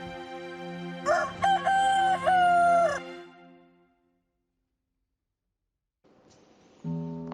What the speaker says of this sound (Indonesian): dan ketika itu berkokoklah ayam